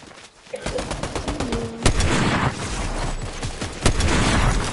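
Rapid bursts of gunfire in Fortnite aimed at the player, loud and close, with sharp cracks standing out over a dense, continuous barrage.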